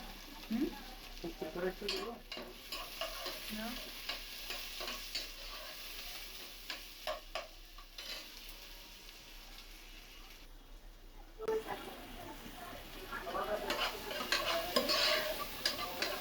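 Onions fry in a pan for a fish curry, giving a soft continuous sizzle with intermittent scraping and stirring clatter, close and fairly quiet.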